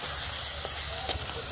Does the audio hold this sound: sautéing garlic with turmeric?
yes